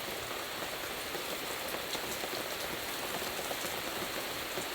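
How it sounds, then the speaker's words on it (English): Heavy rain drums steadily on a van in a dense, even hiss of countless drops, loud and close, with no letup and no voices. "I don't know if the camera's picking up any of this rain"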